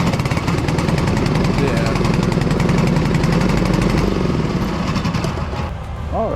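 An old duck boat outboard engine runs loudly and close, a rapid, rough pulsing chug that holds steady before easing off near the end, with voices heard under it.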